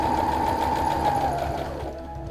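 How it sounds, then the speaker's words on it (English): A sewing machine stitches along the fabric hems of a cot liner, a steady close whirring hum that runs continuously and eases slightly toward the end. "keeping the needle down in your machine, lift the presser foot, turn your work, and then lower the presser foot again so that you're ready to stitch alongside the hems"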